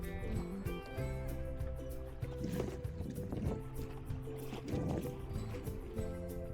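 A dragon boat passes on the water of a harbour typhoon shelter, heard from the shore as rhythmic drumming and paddling splashes over a steady low engine-like drone, moderately loud and continuous.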